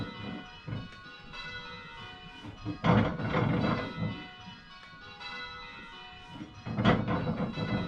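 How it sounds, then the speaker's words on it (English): Church bells in change ringing, with bell 3 struck in fourth place, sounding as a run of resonant, evenly spaced strikes with overlapping ringing tones and a couple of louder blows. "So now Jill's ringing bell 3 in 4th place."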